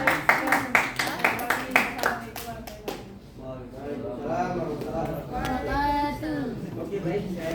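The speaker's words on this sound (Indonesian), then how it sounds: "kita beri tepuk tangan untuk kelompok" A school class breaks into a short burst of rhythmic hand clapping for a student group, loud and close at first, then fading as a teacher's voice carries on talking.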